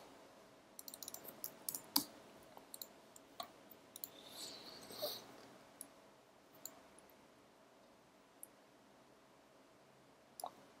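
Typing on a computer keyboard while running an iOS Swift project, scattered faint key clicks in short irregular bursts with longer gaps, quiet and close against a low background.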